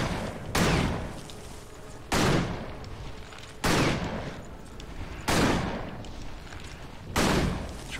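Gunfire from the action RPG Victor Vran comes as five evenly spaced loud blasts, each a sharp crack with a decaying tail, repeating about every one and a half seconds over a steady game background.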